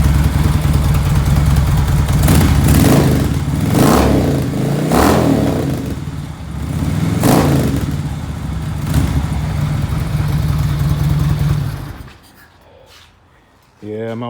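Motorcycle with freshly repacked mufflers runs nearby with a low, muted exhaust, a steady rumbling idle rising in several brief revs before cutting off near the end, with a person speaking over it.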